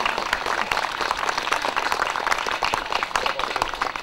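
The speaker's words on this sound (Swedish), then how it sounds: "Ge Ann-Britt en riktigt god applåd här nu." An outdoor sing-along crowd at Allsång vid Picassoudden gives Ann-Britt a long round of applause, a dense, steady wash of many hands clapping at close range with no break.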